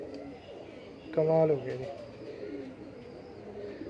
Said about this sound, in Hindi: कबूतर मेरे पास है